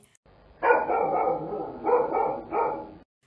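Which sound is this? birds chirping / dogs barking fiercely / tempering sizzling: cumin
dogs barking fiercely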